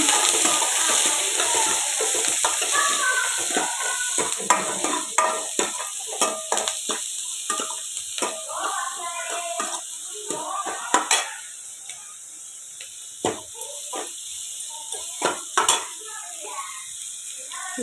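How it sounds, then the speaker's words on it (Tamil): Onion and curry leaves fry in a pan, a steady sizzle running under repeated scraping and clinking stirs of a utensil against the metal, close and moderately loud. "வெங்காயம், கருவேப்பிலை போட்டுக்கிறேங்க."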